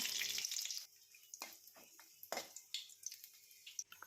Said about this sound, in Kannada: ಒನ್ ಟೀ ಸ್ಪೂನ್ ಸಾಸಿವೆ ಹಾಕ್ಕೊಳ್ತಾ ಇದ್ದೀನಿ ಎರಡು ಒಣಗಿದ ಮೆಣಸಿನ್ಕಾಯಿ ಹಾಕ್ಕೊಳ್ತಾ ಇದ್ದೀನಿ ಒಗ್ಗರಣೆಗೆ